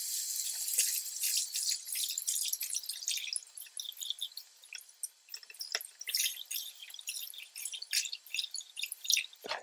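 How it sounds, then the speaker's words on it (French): Period underwear is rinsed and wrung out under running water, giving steady close splashing and dripping with uneven bursts as the fabric is squeezed, and no voices. "Puis je rince tout en continuant à l'essorer pour bien la dégorger."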